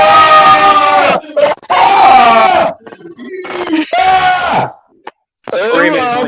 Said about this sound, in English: Screaming noises.